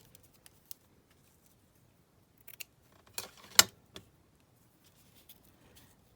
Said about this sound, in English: Let me just cut my bit of black lace.